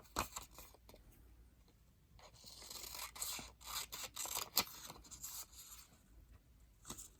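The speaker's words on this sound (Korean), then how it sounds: "지금 접은 선을 가위로 잘라서 버릴게요" Scissors cut along a fold in small colored paper during origami, several crisp snips and rustling paper sounds heard up close and quiet, with no talking.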